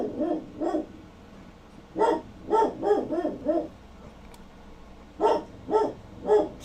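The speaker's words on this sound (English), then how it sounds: "Bella, bark for big candles, baby." A dog barks repeatedly and fairly close, in short clustered bursts: two barks, a run of five, then three more after a pause, with no talk over them.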